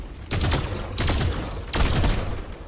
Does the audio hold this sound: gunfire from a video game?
yes